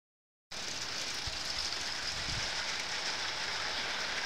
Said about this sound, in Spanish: Se largó nomás la lluvia, nos fuimos.